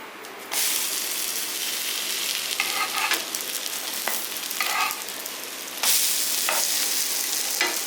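Slices of egg-coated bread fry in a pan with a steady, close sizzle and crackle, swelling in bursts as the pieces are moved or turned.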